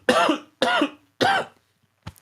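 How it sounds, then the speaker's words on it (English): A man coughs three times in close succession, each harsh and loud, followed by a short, quieter throat noise; no speech. "Now the cough is back."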